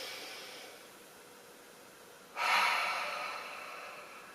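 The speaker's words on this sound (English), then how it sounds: "Inhale through the nose. Exhale, release." Deep breath taken in through the nose and released, heard as a soft, airy inhale followed by a louder, broad rushing exhale partway through, close and alone without any talk.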